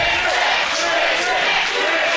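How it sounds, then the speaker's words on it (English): A professional wrestling crowd at a live event roars and cheers steadily, a dense, sustained wall of voices throughout. "Crowd firmly behind Twisted J and Santirini."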